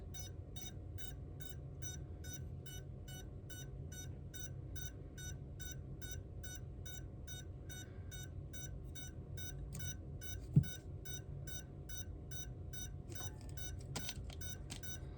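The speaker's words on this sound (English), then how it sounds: "Alright, so we got motor beeps." Motors on an FPV drone emit a long, steady train of evenly spaced electronic beeps at low volume, repeating rhythmically over a constant hum, with no talking.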